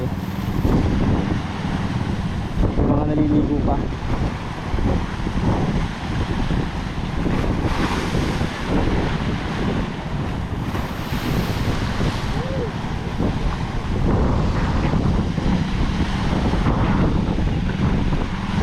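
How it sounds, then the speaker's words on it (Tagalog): Big waves surge and crash along the Tanauan baywalk amid strong wind buffeting the microphone, a loud continuous roar with a person speaking briefly over it. "Grabe, napakalaki ng alon."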